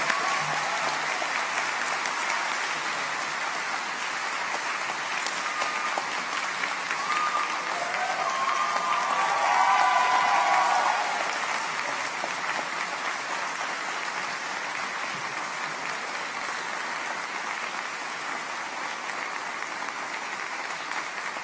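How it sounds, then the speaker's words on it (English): Sustained audience applause at a graduation ceremony for a school of health and wellness, a dense steady wash of many hands clapping from a large crowd that swells slightly midway and continues throughout with no talk. "We deserve to give ourselves a huge round of applause."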